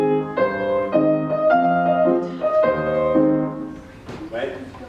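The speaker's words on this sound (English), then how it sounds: "The music in measure 48 in the piano sounds like this." Piano chords and melodic phrases play in a steady rhythm, close and moderately loud, with a brief voice-like sound near the end.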